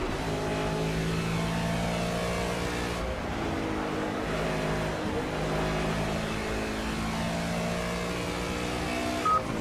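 Mustang race car engine in the Project CARS racing game at Watkins Glen, a continuous buzzing engine note climbing and dropping through repeated gear shifts, loud and steady throughout.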